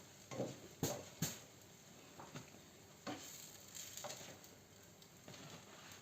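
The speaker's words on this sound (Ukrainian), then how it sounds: "вони швиденько смажаться" Cherry fritters fry in a small amount of oil, a faint, steady sizzle broken by a few clinks and scrapes of a utensil against the pan.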